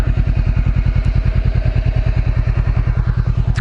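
A motorcycle idles close by at a campground, its engine thumping in a steady, rapid, even pulse, loud and alone for several seconds.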